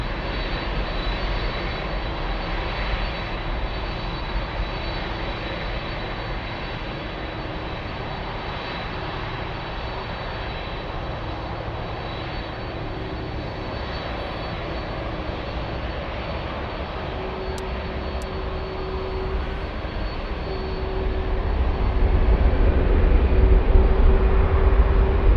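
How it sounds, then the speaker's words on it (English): A Lufthansa Boeing 747-400 jet at Frankfurt airport gives a steady, distant engine drone with a low rumble that swells louder near the end, with no voices. "this is Lufthansa Flight 780 en route to Singapore on a 747-400"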